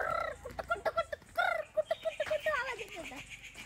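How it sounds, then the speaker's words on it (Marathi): Birds call out in a Konkan orchard near kokum and cashew trees, a run of loud, close, rapid clucking and gobbling notes in quick bursts, ending in a drawn-out falling cry. "पक्षी ओरडत बसतात ना"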